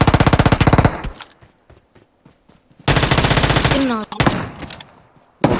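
Automatic rifle fire in PUBG Mobile on the Erangel map: a loud rapid burst of shots opens, then a quiet gap, then another long dense burst followed by scattered shots and a final burst; faint voices talk between volleys.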